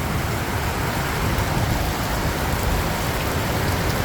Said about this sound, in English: it's getting rain here